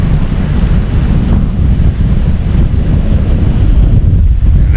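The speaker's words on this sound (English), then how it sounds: "this is just crazy wind" Strong wind roars at a lake and river overlook at Lac Qui Parle state park, a loud, continuous, gusting rush that buffets the microphone throughout, with no voices.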